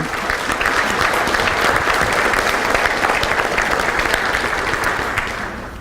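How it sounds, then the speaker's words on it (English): A breakfast-meeting audience gives a round of applause for university football coaches, dense, steady clapping sustained for several seconds before tapering slightly at the end. "Let's have a round of applause for all of them"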